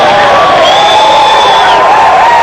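A spectator crowd at a speed skiing world record run cheers and shouts loudly, a dense close roar with a high whistle-like tone rising above it.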